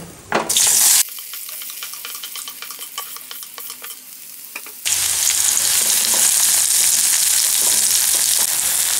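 Sliced onions and green chillies frying in hot oil for a drumstick fry, a loud burst of sizzling, a quieter stretch of clinking stirs, then a strong continuous sizzle to the end.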